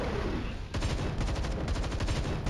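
Rapid turret gunfire in the video game Templar Battleforce, a sustained burst of repeated shots that starts after a brief quieter moment and stays loud and steady to the end.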